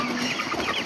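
Chickens cluck in a brief, close burst in a rural village in Sikkim. The sound is a busy, steady layer with no talking.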